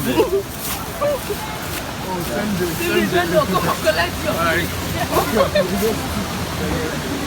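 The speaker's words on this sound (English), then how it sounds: "can you hear that water? It goes all the way down." Water rushes and cascades continuously down rocks in the background in Umunze, Anambra State, Nigeria, while people talk over it nearby.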